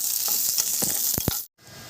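Ingredients sizzle and crackle in oil in a hot pan for a veg kurma, a steady bright frying hiss with a few soft stirring knocks before a brief sudden cutoff.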